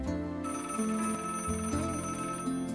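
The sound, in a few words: phone alarm ringing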